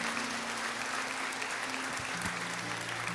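A church congregation applauds with steady, dense clapping throughout, joined by a faint sustained tone in the background.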